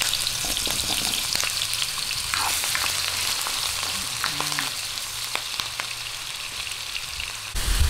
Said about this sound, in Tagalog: atin lang pong prituhin tong ating patatas.